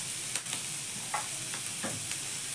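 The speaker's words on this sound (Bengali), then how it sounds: "এবার পেঁয়াজ আর লঙ্কাটাকে হালকা করে একটু নাড়াচাড়া করে ভেজে নেব।" Chopped onion and green chillies fry in a little oil while being stirred, an even close sizzle punctuated by several soft scraping pushes of a spatula.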